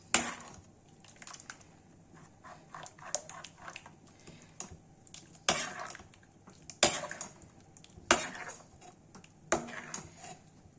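Fresh spinach goes into a pan of garlic, red chili and turmeric for creamy malai palak and is stirred, giving a run of irregular clattering scrapes and taps from the spoon against the pan.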